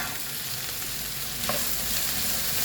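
Okra, or lady's finger, fries in hot oil over a medium flame with a strong, steady sizzle that swells slightly midway, close and continuous with no talking.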